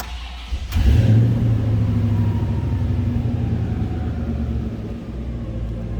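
A 1964 Pontiac GTO convertible with fuel injection starts up with a quick crank and catch, then settles into a loud, deep, steady rumbling idle close by.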